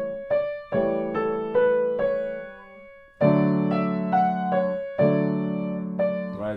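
A Haydn Gypsy Dance practice passage played on piano, a run of chords and notes with uneven stops and restarts between hand positions, a clear break near the middle, close and moderately loud with no talking.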